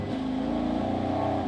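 A BMW F82 M4 with the S55 engine, just fitted with new spark plugs, starts and runs with a steady, loud, close-up rumble throughout.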